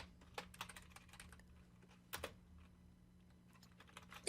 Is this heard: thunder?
no